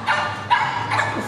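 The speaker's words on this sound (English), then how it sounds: "What kind of fucking dog is that?" A dog on a street in California gives three short barks in quick succession, fairly close and loud, with no one talking over them.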